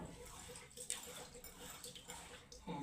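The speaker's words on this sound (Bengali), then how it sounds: "আমি শিলটাকে ধুয়ে নিচ্ছি।" Water splashing and trickling as a stone grinding slab (shil) is washed, a fairly quiet irregular wet swish with small drips, heard close up.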